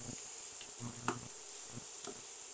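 Onion being stirred into sausage meat frying in a pan for a breakfast casserole: a steady quiet sizzle with a few soft scrapes and clicks of the stirring utensil, no talking.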